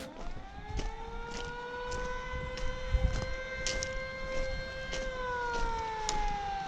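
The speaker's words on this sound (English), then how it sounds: "what's that siren?" A siren wails steadily with rising and falling tones, moderately distant, over a background of traffic or engine rumble.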